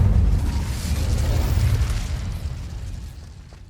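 A fiery Incendio spell bursts in Hogwarts Legacy, a loud whooshing boom with a deep rumbling burn that slowly fades over a few seconds.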